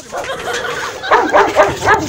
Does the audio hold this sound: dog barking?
yes